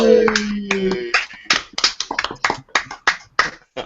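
A small group of people claps in a studio, with a burst of sharp uneven hand claps following a brief voice, loud and close.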